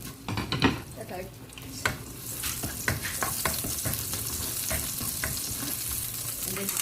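Onion and garlic sauté in a pan for chicken afritada, giving a steady close sizzle with scraping stirs and a few clinks near the start.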